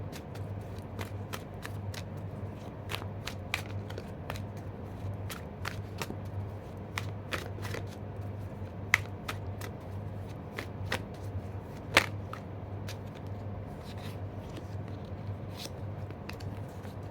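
A tarot deck shuffled by hand, a long run of crisp, close card riffles and slaps repeating at an uneven rhythm, moderately quiet, with no talking.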